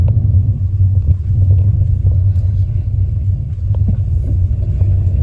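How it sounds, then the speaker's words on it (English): A car climbs a hill under throttle, its engine a loud, steady low rumble heard from inside the cabin with mild swells in level and no speech. "That's what you should do, accelerate up the hill and stop accelerating at the last second."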